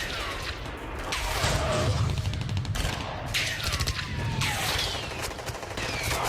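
Heavy gunfire during fighting in the Ukraine war, dense rattling bursts and overlapping shots sustained throughout at mid-distance, with no clear talk.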